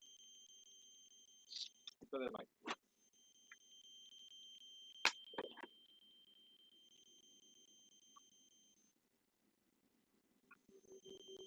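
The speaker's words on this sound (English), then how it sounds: "I'm hearing beeping sounds." Steady high electronic tones hum in the background, broken by a few short bursts of speech and clicks; a low hum runs underneath.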